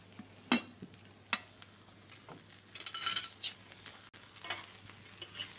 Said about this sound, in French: Je vais attendre que mon magret de canard finisse de flamber.